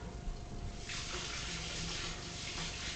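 Water runs from a kitchen tap to submerge a baking pan, a steady close rush that swells into a fuller gushing splash partway through as the stream hits the pan, with no voices.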